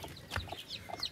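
A hen on a farm clucks a few short, close calls in quick, uneven succession over faint background noise.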